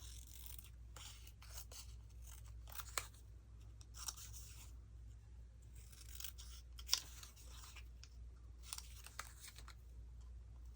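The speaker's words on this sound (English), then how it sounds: "I'm going to just trim this off, the white off, and snip off the corners." Scissors snip paper close up, trimming white edges and cutting corners on a botanical collage tri-fold booklet, a series of short, crisp cuts with soft paper rustling between them.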